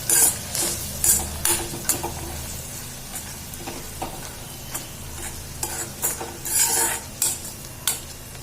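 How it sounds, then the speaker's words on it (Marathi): Red chili powder, salt and spices for a cauliflower curry are stirred in a hot pan, with repeated scraping spoon strokes and occasional clinks over a soft, steady sizzle. "आता हे सगळं आपल्याला परतून घ्यायचंय"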